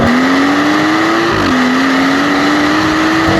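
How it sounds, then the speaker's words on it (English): A stage 2+ tuned BMW M140i, about 480 bhp with an automatic gearbox, accelerates hard in comfort mode: a loud, steady engine drone climbing in pitch from inside the cabin, with a brief dip at a gear change before rising again. "put my foot down and see how it responds in comfort mode"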